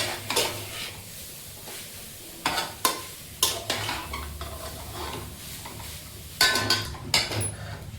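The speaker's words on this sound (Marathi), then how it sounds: "तो गाजराचा किस मी आता ह्या तुपात घालून चांगला 4 ते 5 मिनिटं शिजवून घेते." Grated carrot stirred in ghee in a pan, a steady low sizzle under repeated sharp scrapes and clinks of a spoon against the pan.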